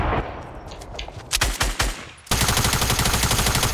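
Submachine gun fire in Fortnite Battle Royale Season 5: a few scattered sharp shots, then a sustained rapid automatic burst that runs loud and continuous to the end.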